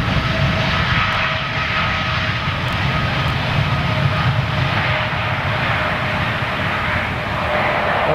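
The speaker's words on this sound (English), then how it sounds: "Definitely be working on a reduced thrust takeoff today." Boeing 747-8 jet engines roar at reduced, heavily derated thrust during takeoff, a loud, steady, unbroken drone with a faint whine, heard throughout with no talk.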